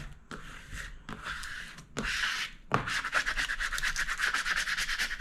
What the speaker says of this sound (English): Now when you're rubbing the tape on the top, you don't want to go too fast